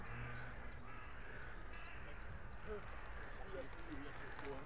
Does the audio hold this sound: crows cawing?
yes